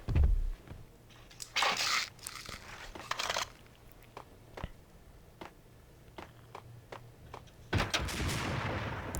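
Sniper gunfire in the PC game Max Payne: a few sharp, loud shots with crunchy bursts, separated by quieter ticking and faint game ambience, without speech.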